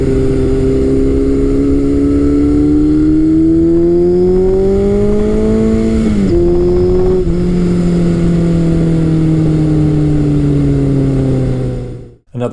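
A 1978 Kawasaki KZ1000 motorcycle engine runs steadily and loudly at close range, its droning tone rising slightly, dipping briefly midway, then holding before cutting off abruptly near the end.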